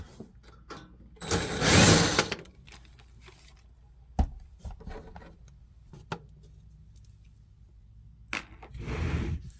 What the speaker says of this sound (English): I'm gonna get my drill here. I'm gonna get an angle and a number 2. Number 2 Roberts here, square head. Take these 2 screws out here.